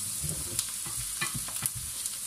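Onion and minced meat frying in a pan while being stirred, a soft continuous sizzle broken by several scraping, clattering strokes of the utensil, close and fairly quiet.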